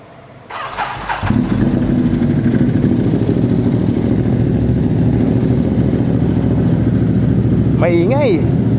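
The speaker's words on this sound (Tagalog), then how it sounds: "So, maingay itong motor na to eh." A motorcycle engine starts up and settles into a loud, rough, steady idle close by, with brief voices at the start and near the end.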